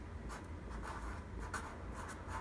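A pencil scratches across paper while the word blending is written, producing steady rhythmic strokes close by with short pauses between letters and no talking.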